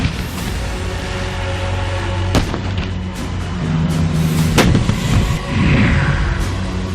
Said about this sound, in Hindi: यह अमेरिका में बनी 155 मिलीमीटर की सेल्फ प्रोपेल्ड हॉबिट्सर तोप है। यह हर मिनट में 4 गोले दाग सकती है।